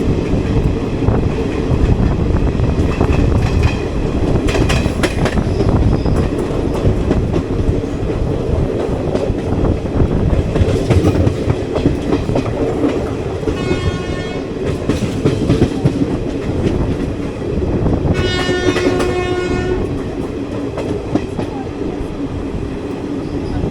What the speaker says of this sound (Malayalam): നമ്മൾ ജസ്റ്റ് ഹൊസൂർ സ്റ്റേഷനിലേക്ക് കയറുകയാണ്.